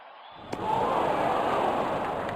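A crowd in a cricket video game breaks into a steady roar after a six, rising suddenly and holding as a loud, even wash of cheering with no talk over it.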